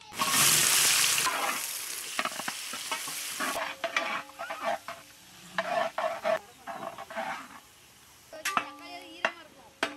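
Oil sizzles loudly as bay leaf, fennel seeds and chopped onions hit the hot pan for chicken curry, then crackling frying continues with intermittent stirring and clanks of a utensil.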